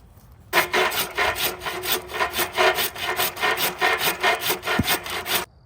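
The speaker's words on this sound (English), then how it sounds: "before I start cutting my kerf and putting my wedge in" Hand saw cutting a kerf into a wooden axe handle, a steady run of close, rasping back-and-forth strokes with no talk.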